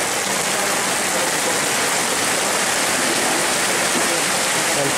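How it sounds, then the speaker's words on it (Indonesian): Heavy rain pours down in Melawi near the town square, a dense, loud, unbroken hiss with no pauses throughout. "Melawi sedang hujan deras"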